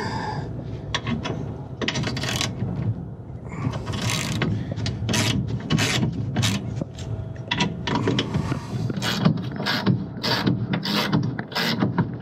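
A bolt is being driven into an HVAC blower motor mount, heard as repeated close mechanical clicks and ratcheting metallic knocks in an irregular rhythm over a low workshop hum.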